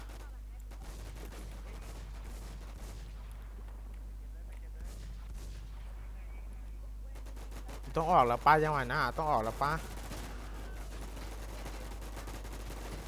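Gunfire in the video game WarZ, a dense burst of rapid shots around the middle of the clip over a constant low hum, with people talking excitedly before and during the shooting.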